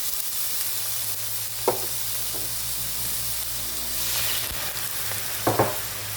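Chicken frying in a pan, a steady close sizzle with a few sharper crackles and spatters, with a faint low hum in the background and no talk.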